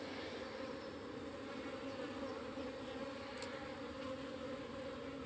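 Agitated honeybees around an open hive: a dense, steady, loud buzzing hum from many bees close by, unbroken throughout with no talk.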